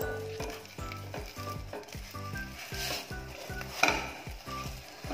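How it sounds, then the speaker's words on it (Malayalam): A whole chicken wrapped in banana leaf sizzles and fries steadily in a hot pan, close and continuous, with faint clinks of the pan and no talking. "നമ്മൾ നേരത്തെ റാപ്പ് ചെയ്ത് വെച്ചിട്ടുള്ള നമ്മുടെ ഈ ഫുൾ ചിക്കൻ ഇതിലോട്ടേക്ക് ഇറക്കി വെക്കുക"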